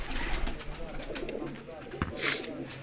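Pigeons coo softly and repeatedly inside a pigeon loft, their calls close by and mixed with background murmur and faint voices.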